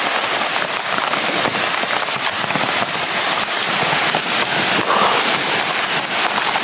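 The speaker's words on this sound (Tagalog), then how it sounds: "Gabing lakas ng ulan." Heavy rain pours down in a dense, constant hiss, loud and close, with no pauses or voices over it.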